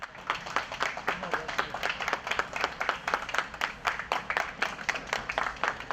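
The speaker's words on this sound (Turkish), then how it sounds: "Çalışma arkadaşları Çapan'ı alkışlarla uğurladı." Office colleagues at a magazine applaud an editor as police take him into custody, a rhythmic burst of steady hand clapping from a small group, fairly faint and continuous throughout.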